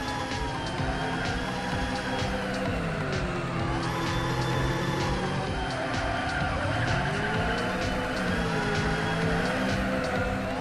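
A car in the drone simulator game Uncrashed drives and skids, its engine droning and whining with shifting pitch while tires squeal continuously, loud and close for the whole stretch.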